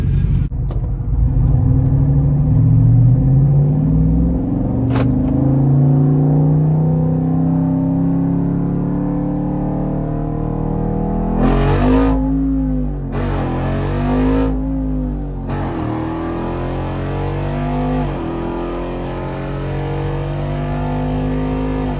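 A Jeep Wrangler Rubicon 392 V8 on massive tires accelerates hard from a roll in a drag race against a manual C7 Corvette Grand Sport, its engine rising in pitch through gear changes, loud then fading.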